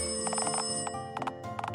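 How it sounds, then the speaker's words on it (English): An old-style telephone rings in the video game Dialtown, with two quick bursts of electric bell ringing over a sustained background tone, loud and close. "The phone. Someone answer the goddamn phone!"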